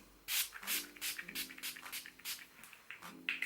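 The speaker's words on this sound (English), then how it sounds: "I'm just going to spray that on my face." Close, short hissing bursts of a face primer spray mist, repeated in a quick irregular rhythm, about a dozen spritzes.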